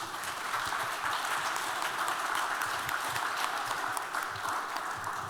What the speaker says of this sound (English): Please give another round of applause for the artist.